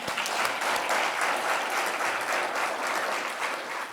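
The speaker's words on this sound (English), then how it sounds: "How about one more round of applause for Ori?" A crowd at an evening award ceremony honoring Ori claps warmly in a sustained, even round of applause, dense and close throughout before easing slightly at the close.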